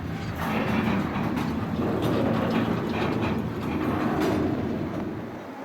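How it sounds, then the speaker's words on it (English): A track maintenance equipment train on Union Pacific's Overland Route rolls steadily along the rails with a continuous heavy rumble and faint clickety-clack, loud and close throughout. "As the track maintenance equipment train gets back underway"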